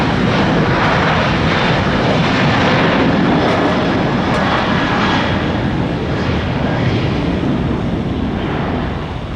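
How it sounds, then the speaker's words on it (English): A fixed-wing airliner takes off at Tampa International Airport, its engines a loud, continuous roar that holds steady and only eases slightly near the end, with no voices present. "This is an aircraft that normally takes a ton of time to get off the ground."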